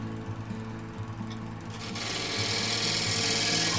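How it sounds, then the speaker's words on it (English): A lathe spins a rare Rhus wood bowl while a gouge cuts into it, a steady low motor hum that swells into a louder, hissing scrape midway as the tool bites, close and continuous. "just me, the lathe, and this rare piece of Rhus wood, revealing its character one cut at a time"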